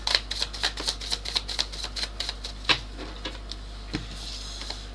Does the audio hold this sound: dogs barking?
no